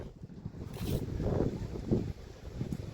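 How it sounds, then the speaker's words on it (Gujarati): Gusty wind blows steadily across the microphone, with low rumbling buffets swelling and easing over a few seconds outdoors. "ઠંડો ઠંડો પવન આવી રહ્યો છે"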